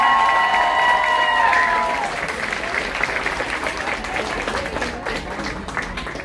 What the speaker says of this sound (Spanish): Los aplausos para ellos, por favor